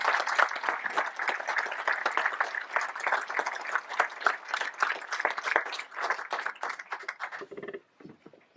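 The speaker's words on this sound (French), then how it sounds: "On peut vous applaudir, bravo à vous." Dense, steady applause from an audience at a mayor's New Year ceremony in Cruguel, loud and continuous for several seconds before thinning into a few scattered claps at the end.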